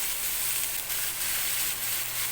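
Steady, even sizzling of chicken frying with aromatics and long chili in a pan for a Filipino soup, a continuous bright hiss with no talk.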